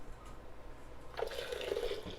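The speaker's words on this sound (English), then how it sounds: "I have a quart of warm soapy water to which I'm going to add a quart of vinegar" Vinegar poured into a quart of warm soapy water near a sink, a short liquid splashing and gurgling pour starting partway in, fairly close and moderately quiet.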